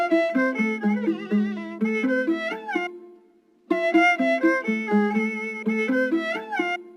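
A sampled string loop plays in a music production session, with bowed melodic phrases running in a repeating pattern, a brief gap near the middle before the loop restarts, clear and upfront with no talking.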